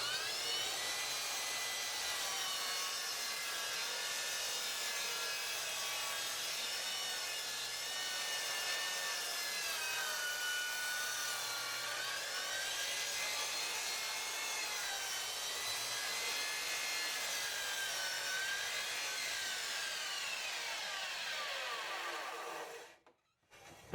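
A miter saw cuts a wooden wedge held in a shim-cutting jig, whining in a steady, loud tone with a rough rasp for about twenty seconds and then stopping abruptly.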